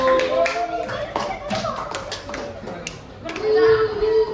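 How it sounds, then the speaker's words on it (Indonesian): Children clapping for a group in a classroom, a short burst of loose, uneven claps and taps alongside speech and children's voices. "berikan tepuk tangan buat kelompok 1."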